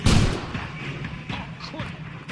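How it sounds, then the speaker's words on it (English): Firecrackers popping in the video game L.A. Noire: a loud burst of sharp bangs at the start, followed by scattered fainter pops and thuds over ambient game noise with some voices. "What's with all the firecrackers?"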